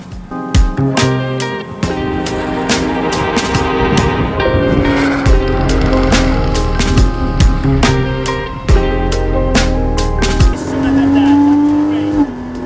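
Porsche Cayman pushed hard around a race track, its engine revving high and dropping sharply through repeated gear changes, with loud sustained acceleration, tire noise and a voice talking over it from inside the car.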